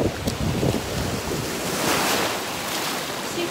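Ocean surf washes continuously at Sand Dollar Beach as a soft, broad hiss, with gusts of wind buffeting the microphone.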